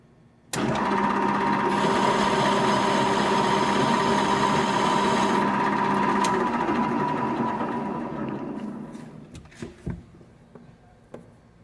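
Metal lathe cutting a screw thread on a finishing second pass at the same depth, a steady loud machining whine with a dense grinding hum that runs about seven seconds, then winds down into scattered clicks and taps.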